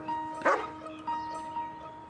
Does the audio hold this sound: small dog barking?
yes